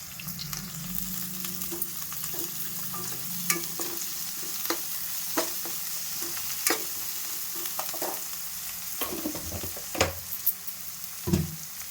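Okra curry ingredients with coriander powder and salt being stirred and mixed in a hot pan, sizzling steadily while a spoon scrapes and clacks in irregular knocks, close and fairly loud, no talking.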